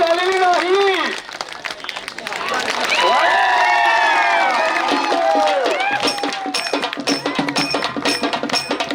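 At an open-air kusti wrestling ground, a crowd claps and cheers while an announcer's loud amplified voice carries over it, with bursts of applause rising and falling in the background.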